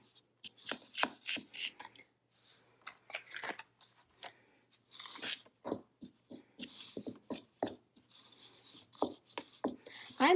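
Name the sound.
spoon mixing cloud dough ingredients in a bowl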